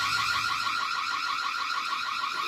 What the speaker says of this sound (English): This is the Siren here.